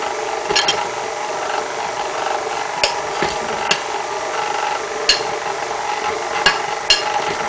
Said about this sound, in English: It's funny to see my mixer kind of wobble.